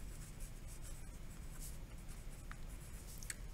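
A pen writes on paper in a quiet room, giving a faint, steady scratching that runs throughout with a few small taps and strokes standing out.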